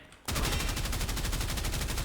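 Rapid automatic gunfire with bursting explosions in Warframe from a fire-damage Reconifex build, a dense continuous stream of shots kicking in suddenly and staying loud.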